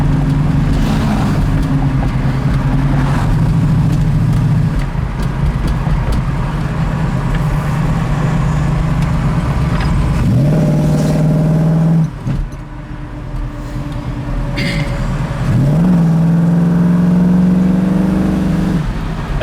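A 1967 Mustang coupe with dual exhaust drives over a small bridge and bumps, its steady engine drone loud and close, dipping briefly around the bumps before the engine rises again.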